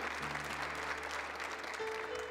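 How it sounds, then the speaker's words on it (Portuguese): A church congregation applauds at a sanctuary feast-day celebration. The clapping is dense, continuous and fairly loud for the whole stretch, with no speech over it. "vamos aplaudir com alegria também o Santuário do Pai das Misericórdias"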